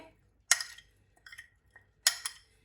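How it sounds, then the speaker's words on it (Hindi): A spoon mixes red chilli flakes and spices into food, giving two sharp clinking scrapes against the dish with a few softer taps between, close and clear in a quiet room. "और इसको अच्छी तरह मिक्स कर देंगे"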